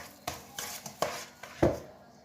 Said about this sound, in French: Pour bien mélanger, on écrase le beurre avec la cuillère et on remélange